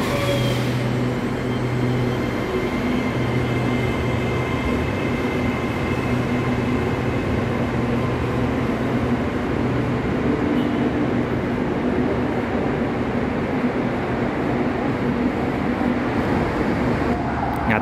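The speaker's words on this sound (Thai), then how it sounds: "ตอนนี้นะครับก็มีขบวนรถไฟมุ่งหน้ามาจากทางดอนเมือง" A long-distance train approaching Bang Khen station in Bangkok rumbles steadily nearby, a continuous low roar of wheels and engine that holds throughout without pause.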